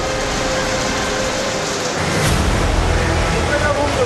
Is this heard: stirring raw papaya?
no